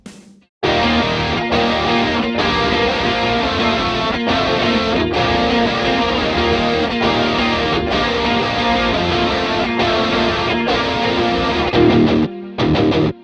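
A thick, chunky distorted electric guitar breakdown plays through a Headrush MX5 effects unit, a dense sustained wall of heavy chords with regular rhythmic accents, loud and continuous for about twelve seconds before cutting off.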